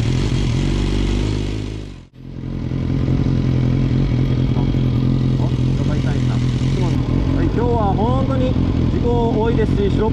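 A police motorcycle rides past on a busy Japanese road, heard from a vehicle: a steady, loud engine drone with a brief dip in the middle and some scraping clatter, with a voice heard toward the end.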